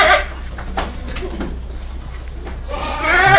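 A sacrificial (kurban) goat at a livestock seller in Central Java gives short bleats, one midway and a louder one at the end, over a quiet, murmuring background.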